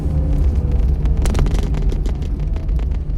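A car rolls and idles on a slope during a manual-transmission driving lesson, a loud low engine rumble with uneven surges and brief rattles throughout.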